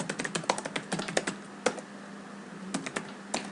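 A command is typed on a computer keyboard, with quick bursts of crisp close key clicks, a rapid flurry at the start, then a pause and a few scattered keystrokes, with no talk.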